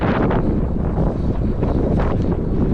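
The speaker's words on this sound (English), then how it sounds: "the wind comes from us from every direction" Strong, steady wind buffets the microphone while cycling across a narrow stretch of Cornwall, a continuous loud roar with gusting surges and no voices.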